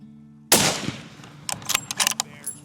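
A single loud rifle shot is fired at a black bear on a hunt in Alaska, a sharp crack that decays over about half a second, followed by a few faint clicks and rustles.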